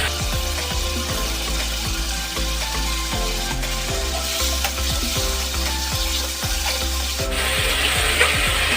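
Pointed gourds (potol) tossed into a hot pan with sautéed spices, giving a loud, steady sizzle throughout, with repeated scraping and stirring strokes against the pan.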